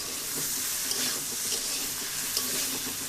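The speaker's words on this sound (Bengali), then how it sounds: "এইভাবে যদি আমি আলু পেঁয়াজ রসুন আদা এলাচ দারুচিনি ভেজে নেই" Potatoes, onion, garlic, ginger, cardamom and cinnamon fry in a little oil for a chicken curry, producing a dense, even hiss with small pops and faint stirring up close.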